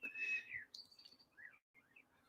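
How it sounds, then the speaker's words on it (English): Birds sing outside through a wide-open window on a hot day, several faint separate chirps and whistled calls with quiet gaps between them. "we've got lots of birds singing"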